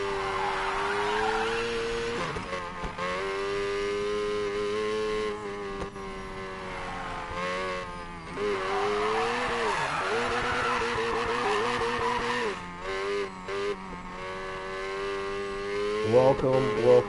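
Tires squeal steadily as a car drifts in NFS Payback, the engine droning beneath with long sliding pitch sweeps, loud and close for most of the stretch.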